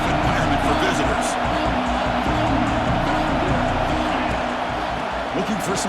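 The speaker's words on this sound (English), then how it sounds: "Listen to the crowd energy here in the early going." Steady roaring stadium crowd in the College Football 26 game during an Alabama vs Ohio State matchup, a constant dense wall of cheering.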